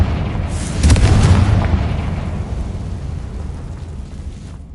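A Confringo fire spell explodes in Hogwarts Legacy, a loud booming blast that swells after a brief lead-in and then rumbles down into a long fading roar.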